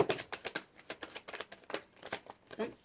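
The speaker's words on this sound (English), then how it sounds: "I already pre-shuffled the cards, and okay, look, come on, let's shuffle." Tarot cards are shuffled by hand in a quiet room, a series of quick, crisp riffling and slapping bursts repeating irregularly, close and fairly soft.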